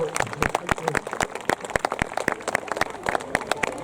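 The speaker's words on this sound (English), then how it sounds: "a massive round of applause" A festival crowd at an outdoor food and craft fair claps in a brisk, uneven patter of individual hands, moderately near, with some voices mixed in.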